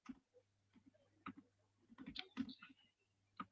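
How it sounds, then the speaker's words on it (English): Sparse keyboard typing in a casual chat setting, a few scattered clicks and key taps with short gaps between them, faint against a low steady hum, no talking. "That's you typing?"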